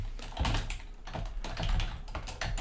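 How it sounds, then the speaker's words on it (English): Keys clatter in quick, uneven bursts on a computer keyboard, close and fairly quiet, with no talking over the typing. "Typed something wrong, can't do it."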